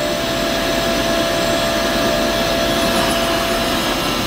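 The milling head of a Doosan Puma MX2100ST machine moves, giving a steady, loud, broadband machine whir and hum that continues unbroken throughout.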